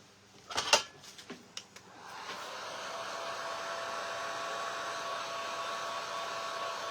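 Small taps and handling knocks come first, then a hair dryer switches on and blows in a steady, fairly quiet whoosh over painted fabric candy pieces for patriotic flag-style hanging decor.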